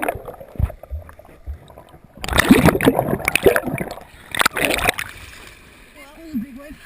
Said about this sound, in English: Well, that was a big wave.